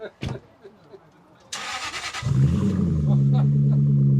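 A few clicks and a brief voice, then a V8 engine cranks and catches, settling into a steady rumbling idle close by.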